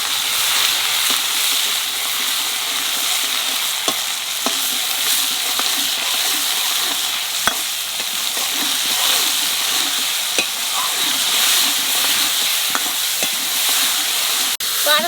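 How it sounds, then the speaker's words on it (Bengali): Karamcha fruit sizzles in hot oil in a pan with mustard, a steady dense frying hiss close by, broken by occasional stirring clicks and scrapes, with no talking. "এইবার তেলের মধ্যে করমচা দিয়ে দেবো।"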